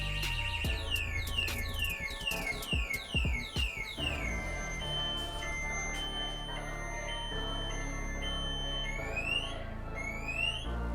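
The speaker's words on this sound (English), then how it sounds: "if you do it again, it'll sound the alarm" A loud e-bike anti-theft alarm blares alone, cycling through rising and falling siren tones and rapid chirps without pause.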